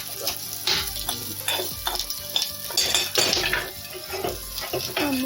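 Onions get stirred into a frying pan with curry leaves: a metal spoon clatters and scrapes against the pan in an uneven rhythm over a soft, close sizzle, with no talking.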